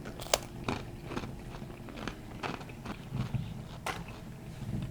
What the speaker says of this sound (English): very crunchy cracker. Reminds me a lot of the MRE crackers.